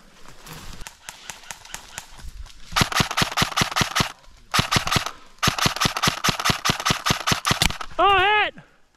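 Rapid bursts of airsoft guns firing in a field game, sharp repeated cracks in long volleys with short pauses, loud and close, while players talk and shout between bursts and a whistle-like warble sounds near the end.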